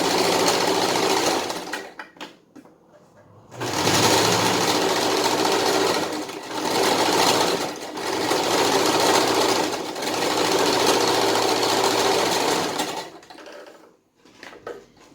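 A sewing machine runs close and loud in long continuous bursts, stitching fabric to gather it for a Tilda-style fabric dog, with brief stops between runs and quiet gaps at the start and end.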